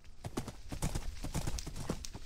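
Horse hooves clip-clop in Minecraft, a brisk, uneven run of hollow knocks at close range, steady throughout with a faint whinny-like tone under them.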